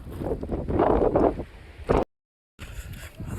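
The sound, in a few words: cold wind blowing on foggy Prabalgad fort trek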